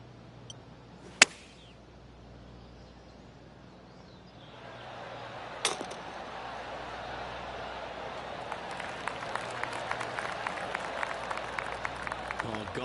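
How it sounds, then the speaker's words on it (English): Spectators at a golf tournament give a soft, scattered golf clap that rises from about four seconds and continues as a steady patter of light, distant hand claps. Two sharp knocks sound earlier. "Oh, golf clap."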